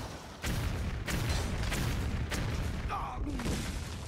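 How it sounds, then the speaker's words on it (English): Fireworks effect in the Hearthstone video game: a series of booming, crackling bursts that rise every second or so over a dense, continuous wash of game noise, fairly loud and with no talking. "We're ready for fireworks."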